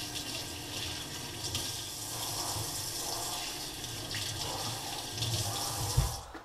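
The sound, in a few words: rinsing crappie fish fillets under running tap water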